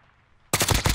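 A PPSH-41 submachine gun in the Warzone video game fires a sudden, loud, rapid burst of automatic shots right after a moment of near quiet.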